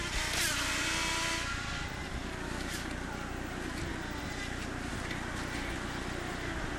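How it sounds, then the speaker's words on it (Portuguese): A 2011 IndyCar race car roars around the Baltimore street circuit, its engine a loud, steady, continuous drone with a brief rising whine near the start. "Sobe o som, vamos curtir o motor do carro dele"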